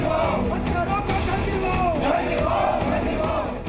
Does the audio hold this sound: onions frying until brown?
no